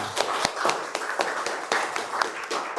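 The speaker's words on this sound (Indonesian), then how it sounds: "beri tepuk tangan dulu untuk Dinda" A small college classroom gives a student a round of applause after a lesson on parabolas, scattered hand claps in an uneven rhythm, moderately close and fairly sparse for just under three seconds.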